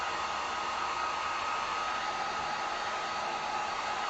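Heat gun blowing over fresh acrylic paint on a chalkboard-style sign, a steady close-up whirring hiss of fan and hot air with no change in level throughout.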